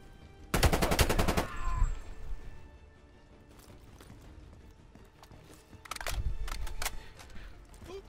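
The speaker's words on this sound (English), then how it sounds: "Who's shooting me?" Bursts of rapid automatic gunfire ring out in Call of Duty: Black Ops Cold War, first a loud close burst, then quieter scattered shots, then a second loud rattling burst near the end.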